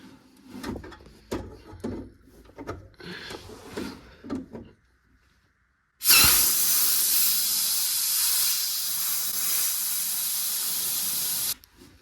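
Brake cleaner sprays in one loud, continuous hiss lasting about six seconds, after a few clunks and knocks and a short pause.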